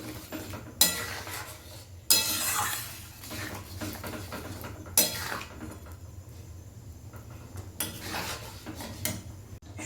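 A spoon stirs Kashmiri red chilli into egg tarka in a pan, making quiet scraping sounds punctuated by a few sharp metallic clinks, with no talking.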